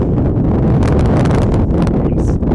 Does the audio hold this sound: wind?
yes